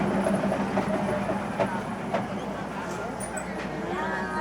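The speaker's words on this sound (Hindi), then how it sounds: "और ये गई ट्रेन" A train rolls slowly through a Thai railway market, its steady rumble and clatter running close by for the whole stretch, with a few sharp squeals and hisses on top and people talking under the noise.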